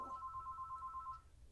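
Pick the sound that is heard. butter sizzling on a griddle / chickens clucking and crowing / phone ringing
phone ringing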